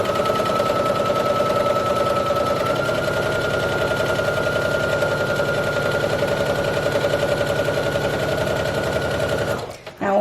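A sewing machine sews a straight stitch on dress shirt fabric for an apron, a fast rhythmic needle clatter running steadily for nearly ten seconds, close and loud, before stopping.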